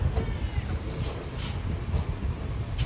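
A 2011 Maruti Suzuki Wagon R LXI petrol/LPG car engine idles with a low, steady rumble, close and even, mixed with some wind-like noise.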